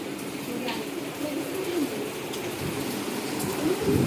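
Heavy monsoon rain falls outside in a continuous, even hiss, with faint bird calls now and then and a possible murmur of voice underneath.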